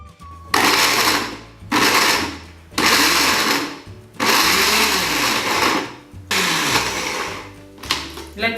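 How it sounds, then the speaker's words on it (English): Food processor blending ginger, garlic and coconut oil into a paste, loud whirring motor in repeated bursts of about a second each with short pauses between, close and without talk. "All we need to do is just blend these ingredients in a fruit processor along with the coconut oil."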